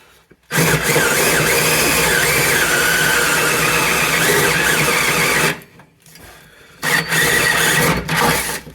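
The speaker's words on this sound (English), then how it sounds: "Now, I see people use drills all the time. Go full bore. That drill gets hot, man." A power drill bores into a car subframe on a 3rd-generation Camaro/Firebird, a loud steady whine running about five seconds, pausing, then starting again in a shorter second burst.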